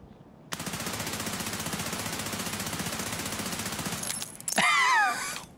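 Long sustained burst of rapid automatic gunfire in Escape From Tarkov, close and loud for several seconds, then breaking off into a sharp shot and chaotic impact noise.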